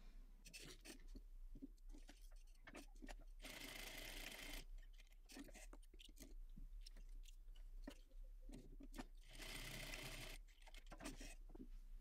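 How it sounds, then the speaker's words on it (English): A sewing machine whirs in two sustained runs of rapid stitching, separated by clicks, handling noises and quieter pauses. "let's head to our sewing machine and let's do that."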